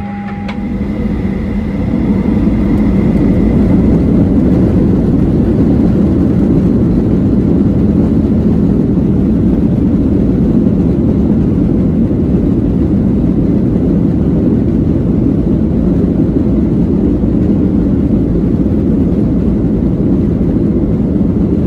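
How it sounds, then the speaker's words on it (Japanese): Skymark airliner engine noise heard from inside the cabin before departure from Oshima Airport, a loud, steady low roar and whine that holds constant throughout, with a brief voice at the very start. "この飛行機は間もなく出発準備が整います。"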